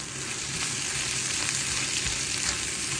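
Onion, tomato, ginger-garlic paste and spices frying in oil for spiced egg curry, a loud, dense, continuous sizzle close up with faint stirring, no voices.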